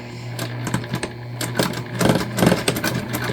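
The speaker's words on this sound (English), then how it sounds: "And we're gonna sew, like I said, with a 1/4 inch seam allowance" A sewing machine runs in close, rapid bursts of mechanical whirring and needle clatter while stitching a puffy pouch made from a dish drying mat with a quarter-inch seam.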